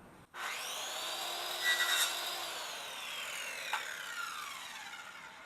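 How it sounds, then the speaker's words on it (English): A circular saw fitted with a carbide-tipped blade cuts through tree branches: the motor whines up sharply, holds a bright tone as it bites through the wood for a few seconds, with a brief second cut near the end. "All I'm doing is using a circular saw and cutting all this stuff off."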